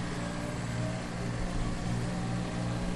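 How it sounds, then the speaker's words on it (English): A tractor engine in the Farming Simulator 2013 video game drones steadily at a low pitch, a constant loud hum with no change in speed. "it's got really nice indoor and outdoor sound on this tractor"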